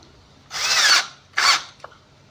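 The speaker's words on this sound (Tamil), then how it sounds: "இது வந்து பார்த்திங்கன்னா ட்ரில் ஆப்ஷன் தான் வச்சு நான் ஸ்க்ரூ பண்ணி பார்த்தேன்." A power drill set to drill mode drives a screw in two loud whirring bursts, the first longer than the second, followed by a faint click.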